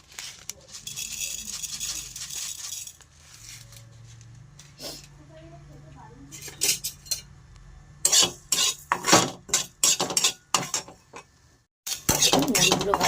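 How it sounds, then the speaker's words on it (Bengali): Fennel seeds dry-roast in a small kadai on a gas stove, giving soft scraping, rattling stirs and clinks of metal that come in and out at close range, with a person talking through parts of it. "সেই কড়াইতে আমি শুকনো খোলায় কিছুটা মৌরি ভেজে নেব।"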